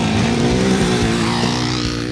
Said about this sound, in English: Firing it up, the 333 Motorsports exhaust delivered a raspy, snare drum-like 4-stroke sound.